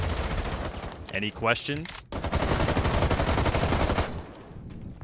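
Rapid automatic gunfire in the video game Rainbow Six Siege, a dense, loud stream of shots that pauses briefly while a voice speaks, then continues before fading near the end.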